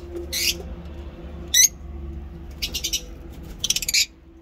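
Pet lovebirds in a cage give several short bursts of high chirping and squawking, spaced a second or so apart, over a low steady room hum.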